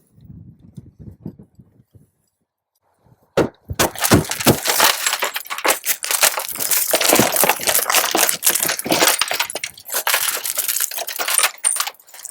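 A car's rear window is broken out during vehicle extrication training: after a short low rumble and a pause, a sharp impact sets off a long run of loud crunching, crackling glass that continues for several seconds with no talk.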